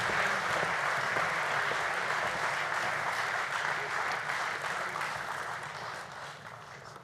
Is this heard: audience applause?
yes